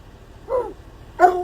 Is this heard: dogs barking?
yes